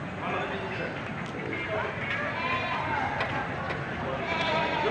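A goat pen full of bucks and other goats at a livestock farm, with scattered bleats rising over a dense, steady crowd of animal noise and people talking nearby.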